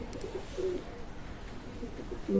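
Pakistani Teddy pigeons coo softly in a loft, a few low murmuring calls rising briefly over a steady background hum, with a louder burst of cooing at the end.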